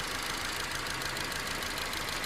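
A Mini Cooper F60 engine runs steadily during a cylinder on/off test, giving a close, continuous mechanical drone with a knocking edge and no talk.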